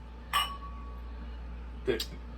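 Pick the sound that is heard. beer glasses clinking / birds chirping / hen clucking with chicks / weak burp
beer glasses clinking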